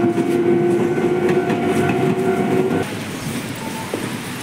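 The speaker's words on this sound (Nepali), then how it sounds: "यो चाहिँ सानो मेट्रो रेल हो साथीहरू।" A small metro train in Chiba, Japan rolls past close by, a loud rumbling run with a steady tonal whine that drops away abruptly as the cars clear, leaving quieter street ambience.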